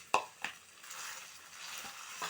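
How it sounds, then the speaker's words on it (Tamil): A spoon stirs a vegetable poha mixture with beetroot in a bowl, giving a couple of sharp clinks followed by soft, faint scraping and mixing sounds, close and without talking. "நல்லா மிக்ஸ் பண்ணி விட்டுருங்க."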